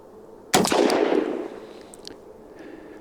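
A single loud shot from a 7.5-inch Ruger Redhawk .44 Magnum revolver cracks sharply, then rings out in a reverberating tail that fades over about a second.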